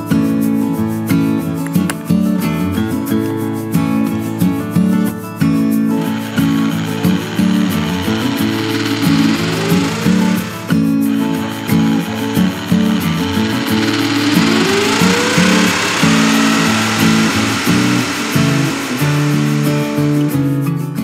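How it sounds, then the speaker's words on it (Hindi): A power drill bores holes into a coconut shell to make a pen holder, whining loudly and steadily for about twenty seconds with pitch rising and falling as the bit bites into the shell. "पेन होल्डर बनाने के लिए इसमें हमको ड्रिल से छेद करना पड़ेगा।"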